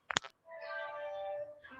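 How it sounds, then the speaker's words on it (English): A recorded cat meow played back in a digital audio class, opening with a short sharp click burst, then a single drawn-out tonal meow that rises and falls, quiet and clear with no talk over it. "Yes, it seems like a cat."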